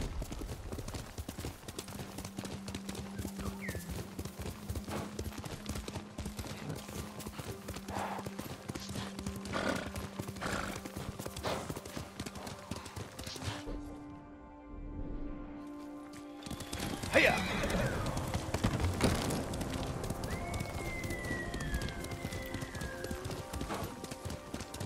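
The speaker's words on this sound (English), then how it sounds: "You're a good horse, Noi." A horse in the video game Ghost of Tsushima: hooves clip-clop in a steady trot, then stop for a moment. The horse then whinnies and snorts before hoofbeats and ambient sounds resume.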